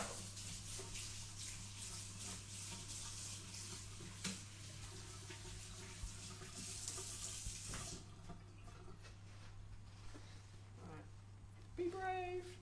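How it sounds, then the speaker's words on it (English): Tap water runs steadily into a kitchen sink as hands are washed during a cooking demonstration, a broad continuous hiss that thins out near the end while a voice speaks over it. "And I'm just going to wash my hands again."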